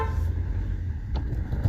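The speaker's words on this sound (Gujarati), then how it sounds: "દોડાવી દઉં ગાડી." A car being driven, with a steady low engine rumble running throughout and one brief higher rattle or knock partway through, with no talking heard.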